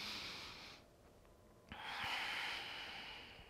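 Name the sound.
breathing during yoga practice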